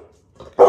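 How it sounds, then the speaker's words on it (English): A single short dog bark bursts out loud and close at the very end, after a quiet stretch with only faint low murmurs. "There goes my dog."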